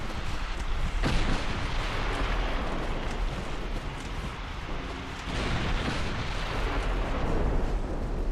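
Naval battle in the video game Ultimate Admiral Dreadnoughts, with dense, continuous booming gunfire and explosions from warships trading torpedoes and shells, loud and overlapping with no pauses.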